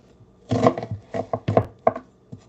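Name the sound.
chopping an onion with a knife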